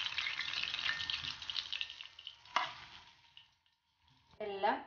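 Unnakkaya, plantain dumplings, fry in hot oil with a close, bright sizzle that fades to near silence, broken by a sharp clatter, before a voice speaks at the end.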